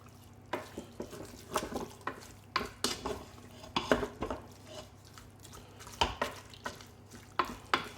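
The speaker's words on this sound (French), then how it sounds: "on va tout mélanger encore une fois" Pulled pork mixed with smoky barbecue sauce in a Cookeo cooker, stirred by utensil in repeated scraping, squelching strokes over a faint sizzle, close and fairly quiet.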